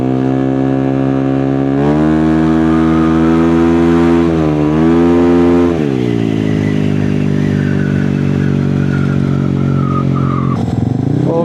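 A Honda Click scooter engine fitted with a silencer idles and revs up close, a loud steady buzzing drone that rises and falls twice before dropping back to idle, with a brief horn-like tone near the end.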